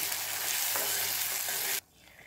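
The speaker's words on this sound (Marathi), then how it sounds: "कांदा परतल्यानंतर आता हे वाटण यामध्ये घालायचं आहे" Onion with curry leaves sizzles loudly in a hot pan as ground paste is stirred in, a dense steady frying hiss that cuts off abruptly near the end, leaving quiet.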